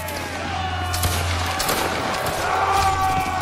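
Dense gunfire from a Roblox Wargram battle: a constant crackle of overlapping shots and bursts, loud and close, running for the whole stretch with faint voices behind it.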